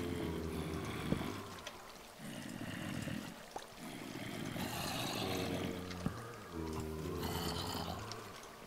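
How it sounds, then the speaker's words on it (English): Buckets of water are emptied in Minecraft (Project OZone 2), and each pour makes a whooshing gush. Several pours follow one another, each lasting a second or two, with brief pauses between. "I'm just gonna empty all these buckets of water out"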